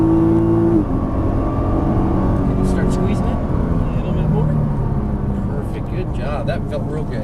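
A 2013 Nissan GT-R engine accelerates off a corner on a race track, with a loud, rising engine roar and wind noise inside the car as throttle is applied.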